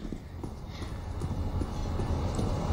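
Footsteps sound in Counter-Strike during a professional IEM Katowice 2019 match. They come as a quiet, steady patter of repeated steps over a dense game background.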